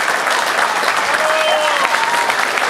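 Applause for the boxers at a boxing gala, a dense, steady clapping from a crowd that holds for the full length, with a voice faintly over it.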